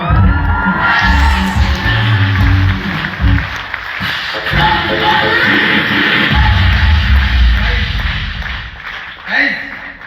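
An audience in a hall cheers and claps at a motivational talk, mixed with heavy, booming DJ music. The crowd noise is loud and sustained, and voices carry over the top.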